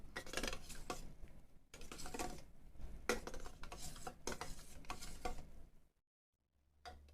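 A spoon stirs cocoa powder into a homemade ice cream base, scraping and clinking in quick rhythmic strokes against the bowl, then a short silent pause before the mixing resumes.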